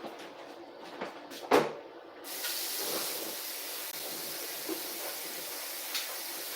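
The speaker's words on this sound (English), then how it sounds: "I'm just going to rinse my potatoes super quick." Water sprays from a tap as potatoes are rinsed, a steady hiss that starts after a few soft knocks and a clunk and then continues evenly to the end, with no talk.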